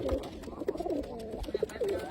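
A pigeon coos nearby in short throaty bursts, with other soft coos and faint rustling around it.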